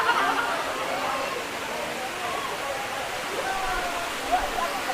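Lubcon Falls in Cortes, Surigao del Sur pours in a continuous broadband rush of falling water, steady and fairly close, while people talk excitedly over it.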